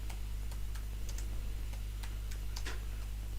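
Quick, light keystrokes on a computer keyboard, an irregular series of soft clicks over a steady low electrical hum, close and quiet.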